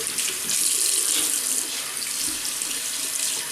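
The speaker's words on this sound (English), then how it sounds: "Warm water." Warm water runs steadily from a tap into a sink for rinsing during a shave with a Gillette Slim Twist double-edge razor, a continuous close hiss and splash with no talking.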